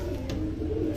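Mixed domestic pigeons, including yellow-eyed Punjabi birds in a pet loft, give soft, low, close cooing in a short, continuous burst with no talk.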